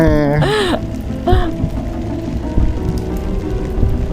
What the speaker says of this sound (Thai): แล้วฝนมันตกอะเนาะ ต้องค่อยๆไปอะ